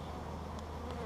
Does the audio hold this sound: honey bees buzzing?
yes